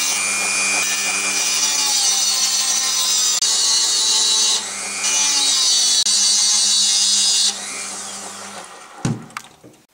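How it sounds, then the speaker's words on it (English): A Dremel rotary tool grinds into a stainless steel yo-yo axle, a loud continuous high-pitched whine that swells and dips with pressure, then winds down with a few clunks at the end. "I have my axle, I take my Dremel, and I create a kind of harrow."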